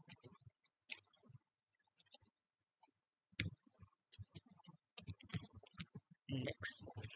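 Java code being typed on a computer keyboard, bursts of quick clicking keystrokes in short runs separated by pauses, with someone speaking in between.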